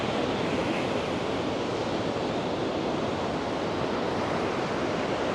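Surf rolls onto Da Nang beach in the rainy season, a dense, continuous wash of breaking waves with no pauses and no voices.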